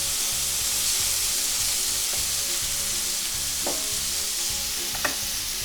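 Mushrooms and capers frying over high heat in a pan, a loud steady sizzle with a few spoon taps and stirring scrapes near the end.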